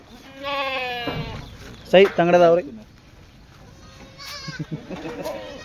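Kathiawari goats give several loud, quavering bleats at close range, in bursts with short pauses, while people talk nearby.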